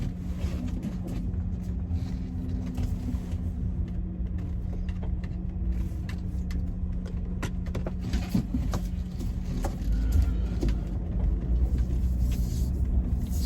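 A BMW 330Ci E46 coupe on the move, its engine giving a steady low rumble with road and cabin noise, heard close from inside the car with no talking throughout.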